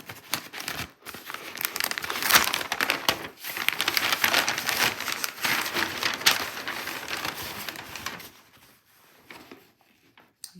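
Packaging from a Fashionphile delivery crinkles and rustles steadily for about eight seconds as the box is opened, close and fairly loud, then drops to faint handling noises.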